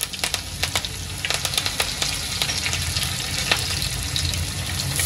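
Onion frying in hot oil with pounded garlic and curry leaves for Maharashtrian zunka, a steady close sizzle with intermittent sharp pops and spatters, no voices present.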